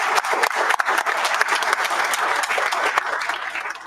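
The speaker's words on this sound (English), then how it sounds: "Another round of applause." A round of applause breaks out at a town council meeting, dense steady clapping from the chamber audience holding at a loud, even level for several seconds.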